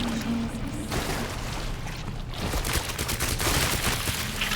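Grenade blasts in the Resident Evil 2 Remake video game, a dense roar of explosions and crackling debris that swells toward the end, with no talking.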